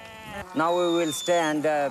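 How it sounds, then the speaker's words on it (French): Goats and sheep bleat repeatedly on a high mountain pass in Pakistan, close and fairly loud, with several wavering calls following one another in quick succession. "Les chèvres et les moutons vont poursuivre en direction du second, le col de Winosar"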